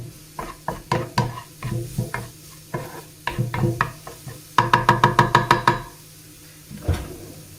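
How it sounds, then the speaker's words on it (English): Mushrooms being stirred in a pan with a utensil, heard as loud, close, irregular knocks and scrapes against the pan, then a quick burst of about ten rapid taps before a pause and one final knock, with no voices. "Let's give my mushrooms a stir."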